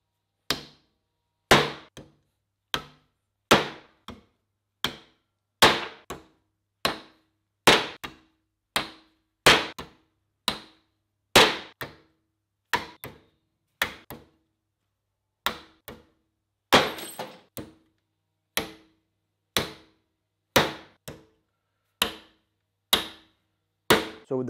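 Repeated hammer strikes on nails driven into wood, testing a homemade kinetic hammer of 35 cm length with one round and one flat head face; about twenty-five sharp, loud impacts in a steady rhythm with no talk.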